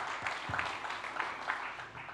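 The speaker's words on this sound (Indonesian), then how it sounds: "Mari berikan tepuk tangan." Congregation applause during an online Sunday church service, a brief steady patter of clapping from a moderate distance, with a few louder individual claps standing out.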